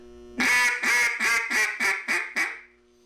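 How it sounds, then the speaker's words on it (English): A duck call blown hard and loud on the downwind side to draw ducks back to land into the wind, giving seven rapid, evenly spaced quacks in a descending run, close and alone with no talk. "You want to call them again and try to get them to come back and land into the wind. Kind of a little harder like this."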